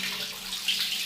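Steady pressurised running water rinsing a corroded computer motherboard during cleaning, a continuous close hiss with no other sounds.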